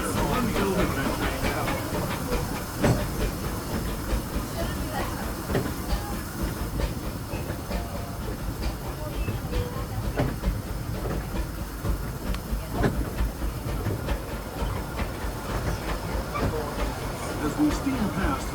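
Disneyland Railroad steam locomotive rolling along the track past Hungry Bear Restaurant, with continuous rumble, hiss and rhythmic wheel clatter heard up close from the front of the train, a narrator's voice running over it.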